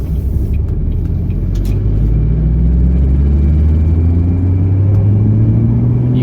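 Driving in a 2005 Ford GT sports car, its engine drones loud and close with a low rumble, the pitch climbing steadily as it accelerates through the revs; no talking.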